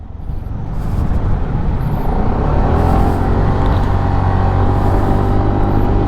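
A BMW C400GT scooter on a test ride: a steady engine drone with loud wind rush that builds over the first second and then holds evenly, heard close up.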